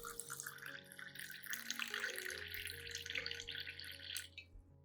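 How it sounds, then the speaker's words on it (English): Hot water pours steadily into a cup holding coffee and lime peel, a close bright trickling splash with a faint tonal ring that ends abruptly as the pour stops. "pour 500 milliliters of hot water to dissolve the coffee and lime peel"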